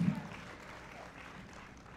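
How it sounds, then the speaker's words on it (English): Audience applause for performers on stage, a short, fairly soft burst of clapping that fades slightly, with a faint voice briefly at the start. "Give them a round of applause."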